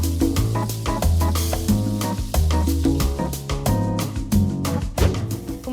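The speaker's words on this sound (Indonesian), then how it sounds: "Goreng sampai warnanya kayak piala Oscar." Tofu frying in hot oil, a busy crackling sizzle with sharp pops throughout, close and fairly loud over a tonal background.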